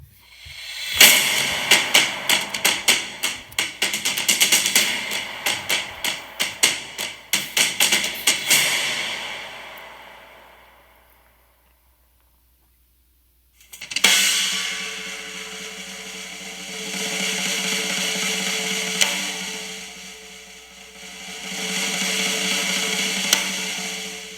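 A young drummer plays a solo: rapid, dense percussive hits with cymbal wash for about ten seconds, a brief silence, then sustained loud cymbal-heavy playing.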